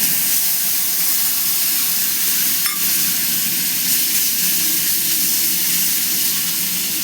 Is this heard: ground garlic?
yes